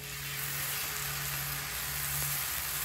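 Chicken sizzles on a flat griddle in avocado oil, a loud, steady, unbroken hiss that holds at the same level throughout, over a faint low hum.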